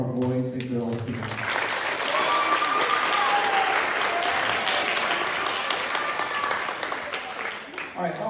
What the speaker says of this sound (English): great round of applause for our boys and girls team